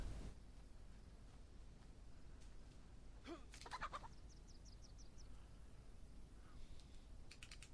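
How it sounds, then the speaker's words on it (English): A chicken clucks faintly in the survival video game DayZ, a few quiet calls in a row over low ambient game noise. "a chicken over here."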